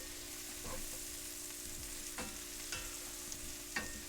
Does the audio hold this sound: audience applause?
no